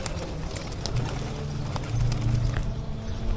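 Pigeons in a rooftop loft in Diyarbakır's Sur district coo softly and steadily nearby, with some faint rustling and background noise.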